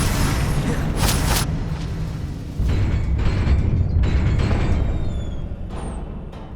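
A Confringo blasting curse explodes in the video game Hogwarts Legacy, a loud, rumbling boom with sharp bursts on top, followed by a sustained, roaring wash of low-end noise and a few lighter crackles.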